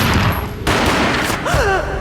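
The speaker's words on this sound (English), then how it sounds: "A gunshot boomed and she fell down in slow motion." Gunfire in the Max Payne video game: loud, dense shots and booming blasts fill the clip continuously, with a brief dip before resuming amid game sound effects.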